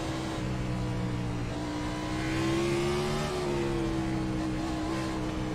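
A NASCAR Cup car's engine drones in the iRacing sim at New Hampshire Motor Speedway, a steady revving tone that climbs in pitch and then falls back, sustained and up front without talk.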